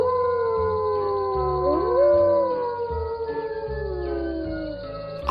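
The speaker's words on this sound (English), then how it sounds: "there was a group of jackals who were howling at a distance." A group of jackals howls at a distance, several long wavering, gliding cries overlapping and rising and falling together at a steady moderate level, with no voices.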